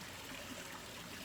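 Quiet, steady rush of running water from a decorative home waterfall, a faint continuous trickle and splash with no voices.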